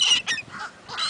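Seagulls call loudly with harsh, honking squawks in quick succession while being fed torn-up pieces of food, up close and without talk.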